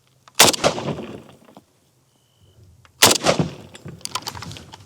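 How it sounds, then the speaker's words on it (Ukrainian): Two loud AKM rifle shots firing 7.62x39 rounds, about two and a half seconds apart, each a sharp crack followed by a ringing echoing tail, close by with quiet between. "Зараз буду стріляти більше разів зімітуємо щільний контакт ворога. Постріл."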